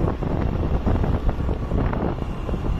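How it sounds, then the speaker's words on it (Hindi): Steady wind rushing past an open moving vehicle on a sunny rural road in Chhattisgarh, a constant loud blustery roar buffeting the microphone throughout with no talk. "और मस्त हवा चल भी रही है क्योंकि हमारी गाड़ी चल रही है।"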